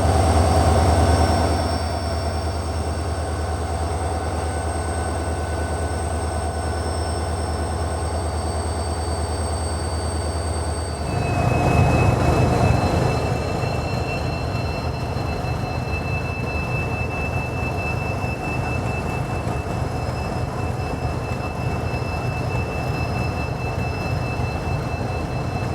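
The 17420 Vasco da Gama Tirupati Express rolls along the track with a steady, loud rumble of wheels and carriages, a sustained high squeal from the wheels running through most of it, and no voices.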